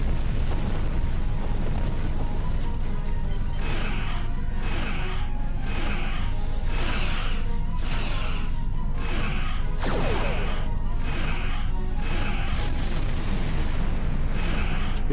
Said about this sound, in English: it looks like a Borg torpedo I just shot